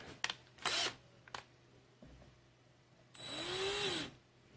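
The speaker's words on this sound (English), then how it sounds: "So I'll put my drill into high speed." A few clicks and knocks, then a drill spins up at high speed with a rising whine for about a second before cutting off.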